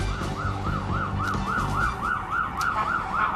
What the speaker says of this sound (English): The sirens in the background Saturday night in New York City.